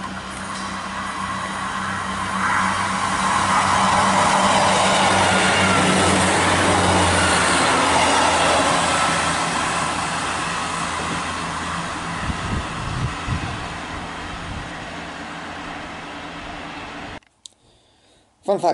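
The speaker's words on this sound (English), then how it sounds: "the highlight is a 158 passing it" A Class 158 diesel multiple unit, 158956, passes through Dilton Marsh station, a steady engine rumble and wheel roar building to a loud close pass and then fading away.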